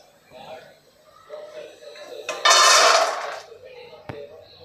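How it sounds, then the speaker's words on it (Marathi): Fried masala peanuts scooped from hot oil with a slotted spoon and poured into a bowl make a short, bright rattling rush mid-clip, with a voice talking before and after. "आता आपण एका भांड्यामध्ये काढून घेऊ."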